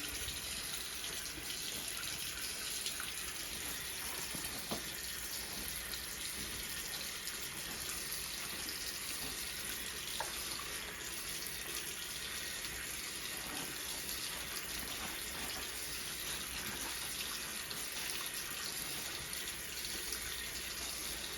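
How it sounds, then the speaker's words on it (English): Water runs steadily from a sink faucet during hand washing, a continuous soft hiss with occasional splashes that stays faint and even throughout, with no talking. "I'll use paper towels to turn the faucet off"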